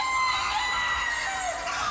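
A rooster's crow used as a sound effect in a Dutch schlager song, a loud sustained cock-a-doodle-doo over bright, continuous music.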